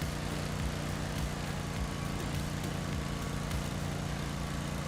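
Lawn mower engine sound effect played through a household appliance speaker, a continuous dense motor drone with low pulsing idle thuds, steady and loud throughout with no talk.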